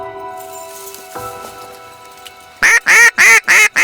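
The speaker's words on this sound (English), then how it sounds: "There's nothing quite as sweet as ducks finishing to the spread after you've done your homework." Ducks on a public-land waterfowl hunt quack loudly and close in a rapid run of four or five raspy calls, following a quieter stretch of steady tonal hum.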